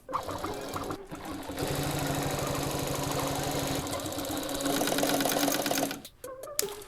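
An industrial sewing machine stitches car seat upholstery in one long, steady, close run with a rhythmic mechanical pulse, slowing and stopping near the end.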